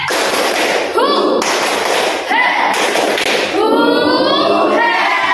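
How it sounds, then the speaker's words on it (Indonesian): Students in a classroom repeat a patterned spirit clap together, with loud, close bursts of synchronized clapping and thuds broken up by spirited chanting in unison. "Sekali lagi biar semangat,"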